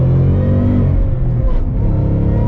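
Shelby Super Snake Mustang V8 roaring loud and close in a throttle blip, a deep harmonic rev that falls away quickly into a rumbling idle in cold weather.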